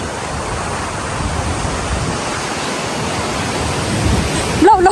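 Water of a village stream rushes and splashes in a steady broadband wash, close and continuous, swollen after recent high flow, with a brief knock near the end.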